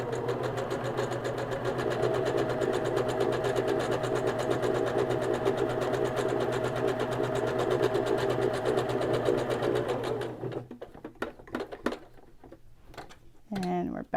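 A sewing machine runs close and steady for about ten seconds, stitching back over its own stitching on a cloth napkin to lock it, then stops, leaving a few faint clicks and handling sounds; a person speaks over it.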